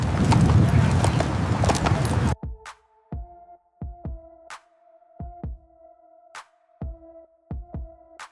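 Horse hooves clip-clop in a steady, close walking rhythm after a burst of dense noise, sharp distinct hoof strikes in an AI-generated scene.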